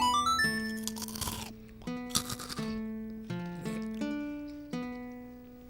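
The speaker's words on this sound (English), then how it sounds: "I don't want to crunch directly into the mic." Food crunched right up against the microphone, several loud, crisp bites standing out over steady video game music from Legend of Zelda: Majora's Mask on the N64.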